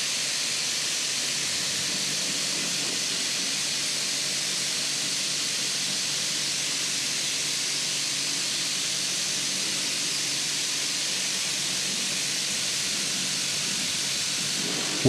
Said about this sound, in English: The outside wash is going full speed, and now it's time to rinse the inside too.